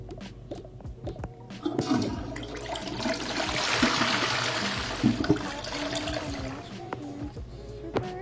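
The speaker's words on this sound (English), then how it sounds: "Right now I gotta flush." A toilet being flushed in the Toca Boca game: a sustained rushing swirl of water that swells in the middle and trails off into a trickle, heard alone and close.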